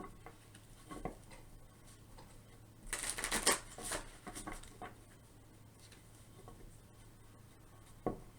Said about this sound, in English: We'll get a few shuffles here